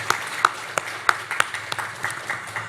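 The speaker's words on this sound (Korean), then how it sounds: "우리 찬양팀도 박수 한번 좀 주십시오" A small church congregation at a Sunday worship service gives the worship team sparse, scattered handclaps, a few distinct claps spread across under three seconds over a low room hum.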